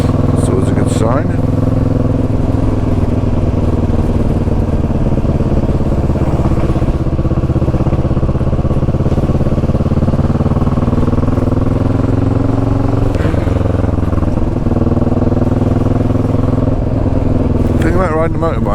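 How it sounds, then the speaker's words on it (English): A motorbike rides along a muddy lane in Bulgaria, its steady mid-pitched engine drone running loud and close throughout with some clatter and rattles, while a rider talks over it. "Riding a motorbike"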